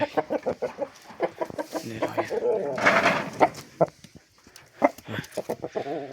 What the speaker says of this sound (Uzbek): Katta xo'rozimiz mana.